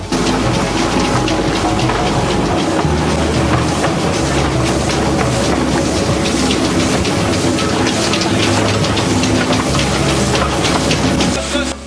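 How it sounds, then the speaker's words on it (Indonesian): A train rumbles steadily through teak forest on a disused railway line, with loud, continuous rolling noise and rhythmic clacking of wheels over rails, heard from on board throughout. "Kereta kami terus berjalan masuk ke dalam hutan."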